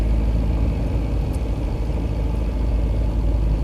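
An old Skoda Favorit with an eight-valve overhead-valve engine runs with a steady low drone and a faint mechanical clatter, heard from inside the car, continuous and even, with no talk.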